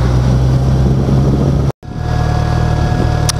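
Motorbikes with auxiliary lights switched on pass on a road, a loud steady engine drone close by that cuts out briefly and then resumes.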